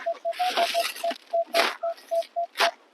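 A Minelab X-Terra Elite metal detector gives a run of short, clear beeping tones at a steady pitch, about a dozen pulses in quick rhythm, interleaved with scraping and rustling noises close to the microphone.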